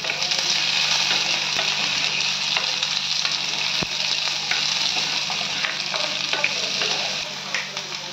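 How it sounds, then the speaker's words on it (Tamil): Onions and curry leaves sauté in a hot pan for egg gravy, giving a loud, steady sizzle with occasional stirring scrapes throughout, close up and without any voices. "வெங்காயம் போட்டுக்கோங்க. கருவேப்பிலை நல்லா வதக்கிக்கோங்க."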